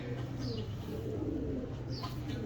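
Pigeons coo nearby in a continuous low, rolling murmur, with a couple of faint higher chirps over steady background noise.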